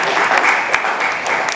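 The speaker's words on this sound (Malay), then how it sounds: "Kita berikan tepukan." Sustained audience applause at a university MoU signing ceremony, even and fairly loud throughout, with many hands clapping together and no talk over it.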